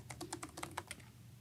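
Rapid, uneven keystrokes on a computer keyboard, a short burst of close clicks with no talking.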